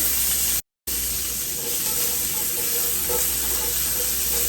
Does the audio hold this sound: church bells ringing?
no